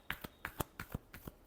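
Tarot cards are shuffled close by in a quick series of soft riffling snaps, about eight short bursts in under two seconds, faint and isolated.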